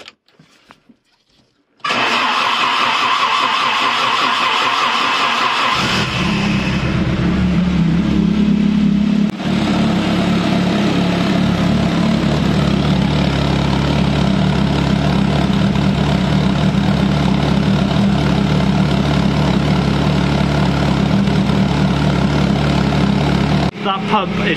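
A Commer 2.3 turbo engine cranks over and starts, then settles into a steady, loud idle with a throbbing exhaust note that runs alone and close to the end of the clip.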